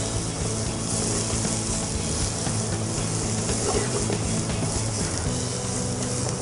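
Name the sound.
onion and chopped red pumpkin frying in a pan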